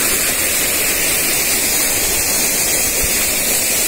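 A flowing mountain stream on the Kedarnath trek from Gaurikund to Kedarnath temple, a loud, steady rushing hiss of water close by, unbroken and without speech.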